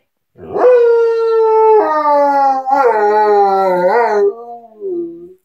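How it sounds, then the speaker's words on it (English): A wolfdog howls in long, wavering drawn-out tones, close and loud, rising and falling through several sustained cries before trailing off. "What are you howling about?"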